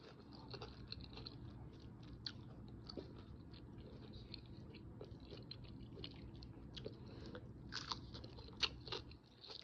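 Crisp battered and fried zucchini bitten and chewed close up, a run of quiet crunches and soft chewing that builds to a sharper bite near the end, no talking.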